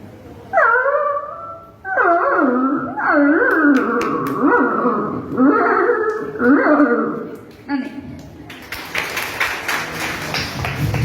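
On a school youth festival stage, a mimicry performer imitates a dog's whimpering and whining in a series of rising, wavering cries, with a burst of rustling noise at the end.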